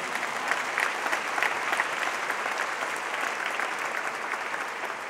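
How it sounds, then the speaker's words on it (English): An audience at a conservation awards gala breaks into sustained, even applause, a dense wash of clapping from a large crowd lasting several seconds without letup. "you can applaud for that"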